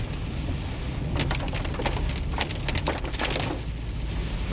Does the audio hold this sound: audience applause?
no